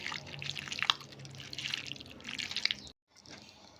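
Hands knead mutton with cooled mustard oil marinade, making close, wet squelches and smacks in repeated bursts, with a brief silent pause near the end.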